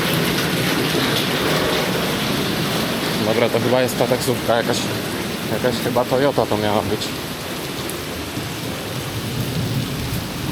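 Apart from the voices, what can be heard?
heavy rain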